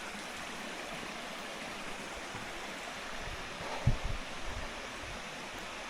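A forest waterfall gives off a continuous, even rush of water throughout, with a few brief low thumps near the end.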